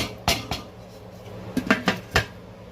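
Metal lid clanks and scrapes onto a cooking pot of boiling okra soup, several sharp close knocks in two clusters over a steady background hiss.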